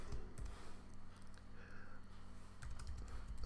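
Program code being typed on a computer keyboard, a steady run of close key clicks and taps continuing throughout with no voices.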